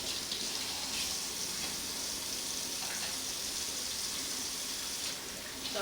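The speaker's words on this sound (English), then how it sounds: "Wash my hands off." Water runs steadily from a kitchen tap as a chef rinses her hands mid-recipe, a continuous broadband hiss with no voices over it.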